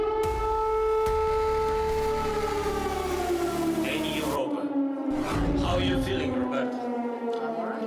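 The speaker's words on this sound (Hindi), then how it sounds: "तभी हवाई हमले से अलर्ट करने वाला सायरन गूंजने लगा।" Air raid alert siren wailing across Kyiv, a loud steady tone for about four seconds that then drops into a lower, fading wail mixed with voices and background noise.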